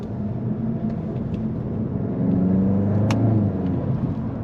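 A Volkswagen Golf 8 GTI Clubsport with a DSG gearbox pulls hard in fourth gear, its engine a steady low drone that swells and rises toward the end, heard from inside the cabin.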